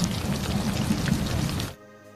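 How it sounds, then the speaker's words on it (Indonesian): Steady rain pours down outdoors in a film scene, a dense continuous patter that holds loud and even for most of the moment, then cuts off abruptly into near silence. "Sampai di luar, tiba-tiba hujan datang"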